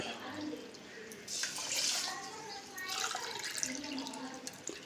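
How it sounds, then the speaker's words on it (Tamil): Two tumblers of water poured over washed raw rice in a pot in a home kitchen, a splashing, gurgling pour in two bursts with quieter trickling between. "ரெண்டு டம்ளர் தண்ணி ஊற்றிக்கிட்டேன்"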